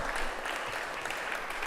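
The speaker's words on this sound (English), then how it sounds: "If you want to clap, you clap." Crowd clapping at a Friends for Life Bike Rally meeting, a brief burst of dense, even applause heard alone without talk.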